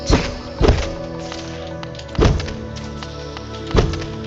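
Heavy hits against a door being brought down in Hollow Knight, four deep thuds spaced unevenly over a steady game soundtrack, with no voice over them.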